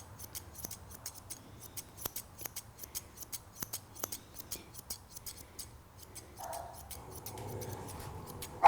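Fine grooming scissors snip through a Bichon Frisé's soft coat during a show trim, crisp rapid clicks in an irregular rhythm, close and clear, followed by a brief rustle.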